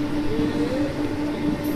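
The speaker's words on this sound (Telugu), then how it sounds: "అదిగోండి హార్న్ వేస్తున్నాడు వీరుడు." A passenger train's horn sounds as a steady drawn-out tone over the constant rumble of the moving train, close and fairly loud.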